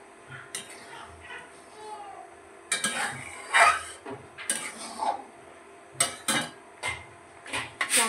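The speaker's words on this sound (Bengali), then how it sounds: "নাড়তে হবে, নাহলে এটা লেগে যাবে।" A spoon scrapes and clinks against a pot as bottle gourd rice pudding (payesh), with sugar and rice flour, is stirred, giving uneven bursts of close scraping and knocks with short pauses between strokes.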